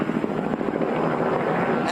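Police helicopter hovering over a quiet Northeast Baltimore neighborhood, a steady rotor drone that stays loud and even for the whole two seconds.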